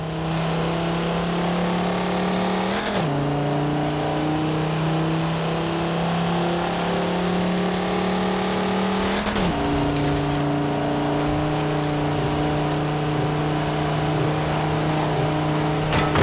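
A Volkswagen Touareg races in Forza Horizon 4, its engine droning steadily at high revs with two distinct upshifts that briefly dip the pitch before the loud, continuous drone resumes.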